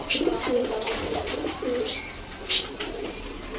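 Pet pigeons coo nearby in repeated soft, low throaty calls, several rounded coos in a short run over a faint background.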